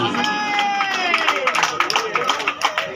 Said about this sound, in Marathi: जोरदार टाळ्या द्या या बक्षिसासाठी